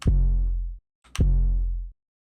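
Two deep booming 808 bass notes, each with a sharp click attack and a sustained sub-bass tone that cuts off abruptly, separated by a short silence.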